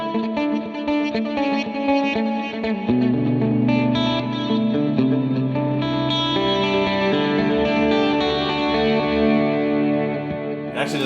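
Distorted electric guitar chords through a Line 6 POD Go reverb effect, ringing out with lush reverb and a chorus-like shimmer, sustained and washing together, loud and up front.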